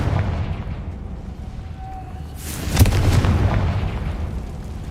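A Confringo fire spell explodes in the Hogwarts Legacy video game, a sharp booming blast with a crackling burst and a rumbling tail, following a brief tonal whoosh.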